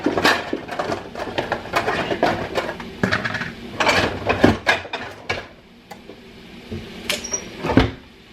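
Plates and dishes clatter and knock in a home kitchen while pan-fried pork chops wait, with sharp clinks and a cupboard-like thud spread through the moment, fairly close and with no talk.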